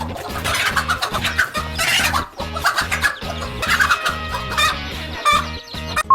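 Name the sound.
hen clucking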